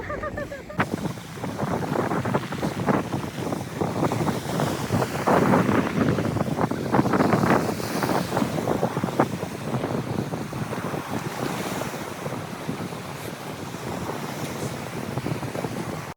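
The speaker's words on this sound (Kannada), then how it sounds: "ನೀರು ಅಲೆಗಳ ಶಬ್ದ ಕೇಳಿಕೊಂಡು" Steady wash of surf and breaking waves with strong wind buffeting the microphone, continuous and fairly loud throughout, no voices.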